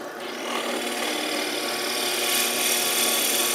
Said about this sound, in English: I use air to take the chips out, and I back the drill bit out, letting it dissipate some of the heat